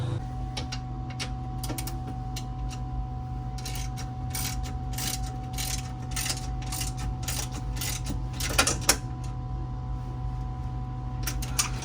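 A socket wrench tightens the bolts of a swivel seat being installed in a Dodge Promaster van, giving a series of quick ratcheting clicks in short bursts over a low steady hum, close but fairly quiet.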